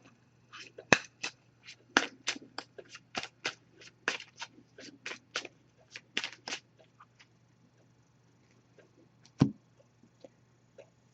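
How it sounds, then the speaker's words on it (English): A deck of oracle cards is shuffled by hand in quick, crisp riffling bursts, a long run of close, snappy card flicks that thins out, with one last sharp snap near the end over a faint steady hum. "I'm just going to give this a few shuffles."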